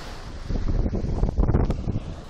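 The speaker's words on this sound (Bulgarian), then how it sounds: "Дори да духа вятър, като си на морето" Wind buffets the microphone in loud gusts on a sunny sea beach, with a rushing sound like surf and open sea air behind it.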